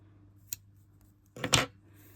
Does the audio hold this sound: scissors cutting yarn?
yes